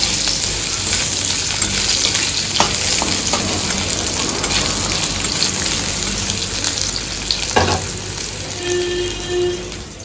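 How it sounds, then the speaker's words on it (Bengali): Black cumin seeds are tempered in oil left over from frying fish for a raw mango fish curry, producing a loud, continuous close-up sizzle with a few faint clicks and scrapes. "মাছ ভাজার তেলেই আরও সামান্য একটু তেল দিয়ে কালো জিরা ফোড়ন দিয়েছে"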